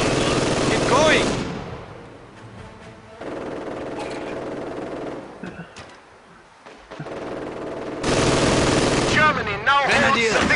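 Machine gun fire in a Company of Heroes 2 battle, loud rapid bursts at the start and again near the end, separated by a quieter stretch of scattered distant shots and battlefield noise.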